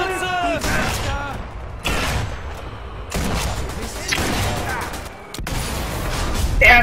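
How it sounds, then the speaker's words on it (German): Sniper rifle shots in a war video game, several sharp blasts spread across the scene with shouted voices and battle noise between them. "Ernsthaft? 6 Schüsse daneben!"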